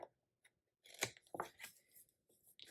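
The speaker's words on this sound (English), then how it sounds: "we need my scissors because we've got to cut here and" Scissors snip paper in a sticker book: a few quiet, close, crisp cuts in an uneven rhythm, with no talking.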